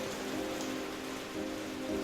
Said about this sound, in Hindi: ये तो सच में बारिश होने लगी।